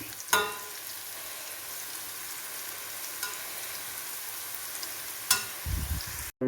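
Bitter gourd frying in hot oil gives a continuous, even, hissing sizzle, with a couple of sharp clinks from a utensil and a brief scrape near the end.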